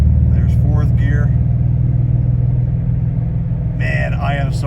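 A hot rod in fourth gear drives with a loud, steady low engine drone and rumble throughout, and someone talks over it near the start and again near the end.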